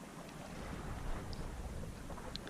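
A sailboat motoring out of the Gulf of Campo off Elba, Italy: a steady low engine drone blended with wind buffeting the microphone and water noise, continuous and fairly loud with no voices.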